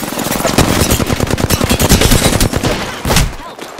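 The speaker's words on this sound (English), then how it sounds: "I am taking fire." Rapid automatic gunfire from the Apex Legends video game, a dense, loud burst of shots firing continuously for several seconds with a brief heavier crack near the end, no voices over it.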